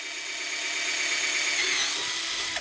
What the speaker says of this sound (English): I'm also going to use a much smaller drill just to let some of this silicone exit out of the socket.